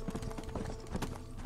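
Horse hooves clip-clop in quick, even beats in Red Dead Redemption: Undead Nightmare, a close, brisk gait that repeats steadily for the full short stretch.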